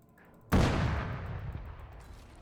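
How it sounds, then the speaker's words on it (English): A high explosive detonates in Arma 3 as one sudden, heavy blast after a quiet moment. A deep rumbling tail fades slowly over about two seconds. "This is a high explosive."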